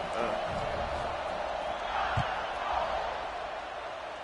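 A video-game college football stadium crowd roars steadily before kickoff, a dense, continuous wash of cheering with no voices standing out.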